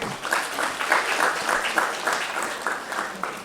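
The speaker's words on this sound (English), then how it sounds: "A big round of applause for our support." Applause at an ICFAI Foundation for Higher Education event in Hyderabad, a steady wash of clapping from a seated audience lasting a few seconds at moderate level, with no one speaking over it.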